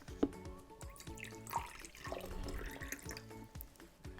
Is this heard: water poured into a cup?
yes